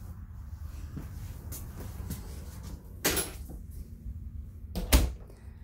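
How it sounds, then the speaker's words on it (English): A sliding barn door in a 2017 Heartland Trail Runner 25RL travel trailer is moved, giving soft rolling and two sharper knocks as it bumps to a stop over a low background hum. "It does have a sliding barn door."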